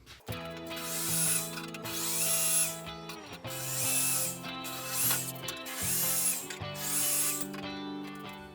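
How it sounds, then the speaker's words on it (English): A drill with a small bit spins in repeated pulses, its pitch rising and dipping as it bites into a Porsche 911's metal front fender to start a pilot hole, fairly quiet with no talk. "I'm gonna go with a small drill bit just to get that hole started."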